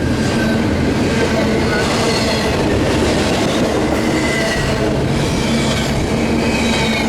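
A domestic intermodal freight train rolls steadily past at close range, its dense rumble and rail clatter continuous throughout, with faint high wheel squeal drifting in and out.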